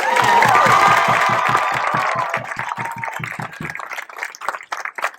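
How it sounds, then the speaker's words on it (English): A crowd at an outdoor high school groundbreaking ceremony breaks into applause and cheers, the clapping loud and dense at first, then thinning into scattered individual claps that fade out. "Can I have a round of applause for them?"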